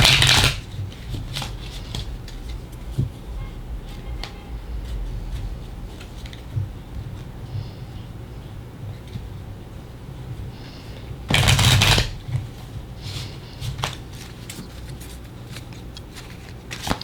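A tarot card deck is gathered up and shuffled in two brief, crisp riffling bursts, one at the start and another about two-thirds through, separated by quiet room tone with faint small handling noises.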